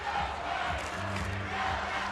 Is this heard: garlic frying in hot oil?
no